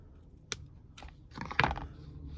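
Dawn redwood tree roots are snipped with shears during repotting, giving a few faint, crisp clicks and snaps spaced over about two seconds, close and quiet.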